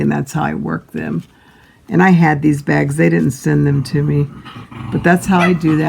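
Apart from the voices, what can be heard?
No everyday noise stands out behind the speech.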